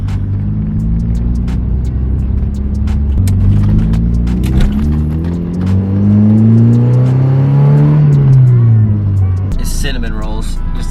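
A Mazda Miata pulls away and accelerates, its engine rumbling up through the gears as the pitch climbs, falls at each shift and climbs again, close and loud, ending in road noise.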